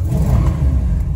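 A 1968 Dodge Charger's 383 big-block V8 revs briefly, a loud, deep rumbling burst close by, rough and throaty, with no talk.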